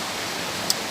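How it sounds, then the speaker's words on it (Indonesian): A waterfall at Kali Pinrleng near Manado roars as a steady, broadband wash of falling water, constant and even throughout with no voices. "saya sudah berada di air terjun kali ya"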